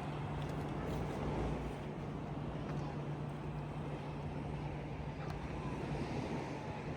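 Sea waves wash at Bournemouth Beach at night as a steady, even roar mixed with gusty wind rumble and a low hum, with no distinct breaks.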